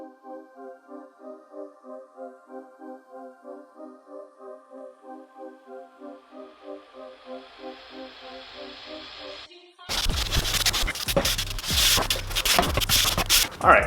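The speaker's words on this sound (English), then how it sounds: "we have successfully drilled out all of our holes" Holes are drilled with home tools in a transmission adapter plate for an AE86 K24/W58 Supra swap. A steady, pulsing tonal whir rises in pitch, then gives way to loud, harsh, gritty cutting noise.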